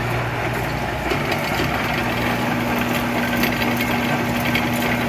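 A Monarch 10EE lathe running in threading mode gives a loud, steady mechanical drone with a constant whine and dense rattling gear noise throughout, close by and without speech.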